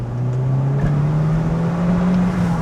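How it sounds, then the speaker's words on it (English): A VW MK5 Golf GTI accelerates hard in second gear with some wheel spin, its engine note climbing steadily as a close, continuous drone from inside the car, with no talking. "bit of wheel spin there in second"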